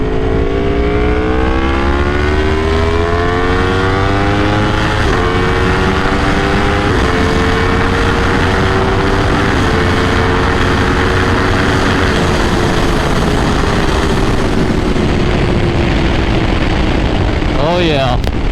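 A 2022 Aprilia Tuono V4 motorcycle's exhaust roars loud and close as it accelerates through the gears, engine pitch rising and dropping at each shift, with a sharp rev burst near the end.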